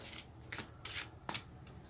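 A few short bursts of shuffling a brand-new card deck, crisp papery riffles close by and soft, separated by brief pauses.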